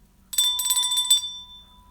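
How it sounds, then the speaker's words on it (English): A bell rings in a quick run of bright metallic dings lasting about a second, loud and close, then fading out, with no one talking over it. "There's a bell ringer."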